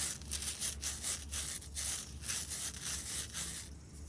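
Dried carrot seed heads are rubbed between hands, a continuous rhythmic scratchy rustling, close and moderately loud, with repeated brushing strokes.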